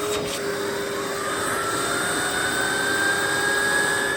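A Russell Hobbs Athena Pet upright vacuum cleaner runs its suction, giving a loud, steady motor whine and rushing airflow with a slowly rising tone, close up and continuous throughout.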